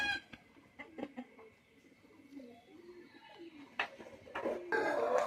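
Pigeons of a fancy flying breed cooing in a loft, soft repeated low coos with scattered clucks, wing flutters and other bird calls nearby, fairly quiet overall.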